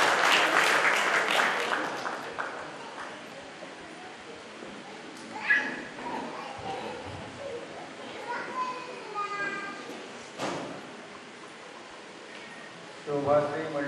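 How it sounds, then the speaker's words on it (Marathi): Audience clapping at a Marathi teachers' award ceremony, a burst of applause near the start that fades into a murmuring crowd with children's voices and scattered noise, swelling again briefly toward the end. "एकदा जोरदार टाळ्या"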